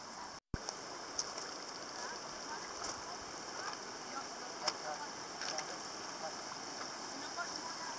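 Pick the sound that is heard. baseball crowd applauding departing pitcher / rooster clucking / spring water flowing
spring water flowing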